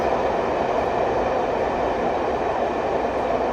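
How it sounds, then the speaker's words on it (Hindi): Electric passenger train in motion on a Srinagar-to-Delhi route, a steady, loud rumbling roar of the moving cars that holds constant throughout without voices. "देखो ये इलेक्ट्रिक ट्रेन चल गई"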